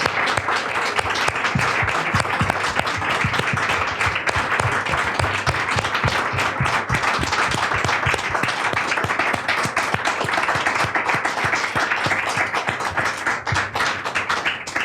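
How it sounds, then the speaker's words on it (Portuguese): A sustained round of applause from an audience at a Portuguese talk on women in the resistance and clandestinity, a dense, even clapping that holds for the whole stretch. "Uma salva de palmas, porque acho que elas merecem muito."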